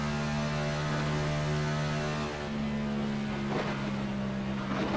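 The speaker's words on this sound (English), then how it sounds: "you can hear just how much that car is bottoming out" A stock car races in the iRacing video game at Las Vegas Motor Speedway, its engine a loud, steady drone with strong low tones that shifts slightly as the car bottoms out and scrapes.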